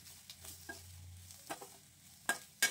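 Salt being stirred into a coconut tempering in a pan, heard as a few soft scraping stirs with light sizzling; faint and sparse, with two sharper clinks near the end.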